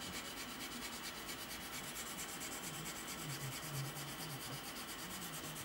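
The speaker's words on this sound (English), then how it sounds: "We're not causing scratches, we're actually just sanding away nice and gently." A sanding stick is rubbed gently over a part of a Tamiya 1/32 F-16CJ plastic model kit. It makes a faint, steady scratchy rub that repeats in soft strokes, close by and quiet, with no talking.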